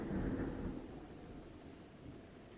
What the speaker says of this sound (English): Dude, the thunder outside is like, whoa!